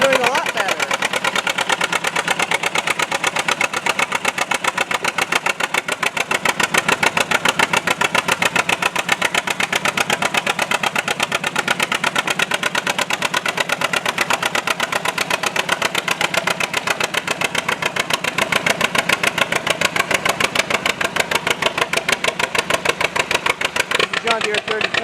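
A John Deere A tractor engine chugs past at a county fair in Stoneboro, its steady rapid firing pulses running unbroken for the whole stretch, fairly close, with people talking in the background.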